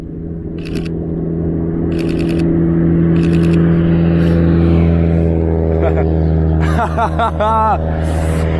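A sports car returns past at a photoshoot, its engine a steady droning rumble building and fading nearby, with camera shutter bursts clicking and excited voices talking over it.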